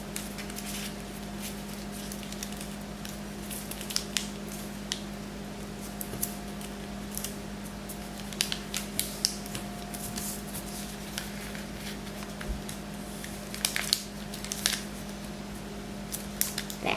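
Origami paper being folded and creased for a paper jet model, giving soft, irregular crinkles and taps close by at a quiet level over a steady low hum.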